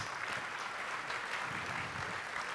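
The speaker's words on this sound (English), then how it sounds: "a round of applause for our 6 finalists" A steady wash of applause from the audience at an oil and gas industry awards ceremony, greeting six finalists. It is continuous and fairly distant, with no talking over it.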